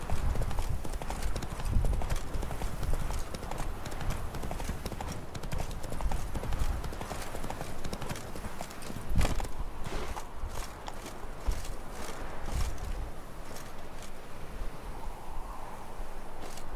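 Roach, the horse in the video game The Witcher 3: Wild Hunt, walks with steady, evenly paced clip-clopping hooves over a noisy outdoor ambience, close and moderately loud for the full stretch.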